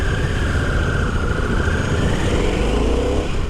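Harley-Davidson Pan America 1250 Special motorcycle fitted with a Screaming Eagle exhaust, its engine rumbling steadily and loud throughout with a rising tone as it pulls away, no voices over it.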